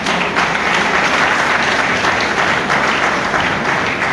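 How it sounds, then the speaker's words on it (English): A large crowd at an honorary doctorate conferment ceremony at Precious Cornerstone applauds loudly and continuously, a dense, sustained wash of clapping with no break. "I thought we were going to clap for this."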